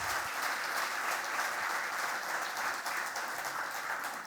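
An audience at an accountability report session gives a strong round of applause, a dense and steady wash of clapping that fills the room without a break.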